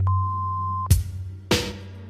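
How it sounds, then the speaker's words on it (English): A voicemail answering machine sounds a single steady electronic beep tone for almost a second, followed by two sharp clicks or clunks of the line, with no talking. "Leave a message at the tone."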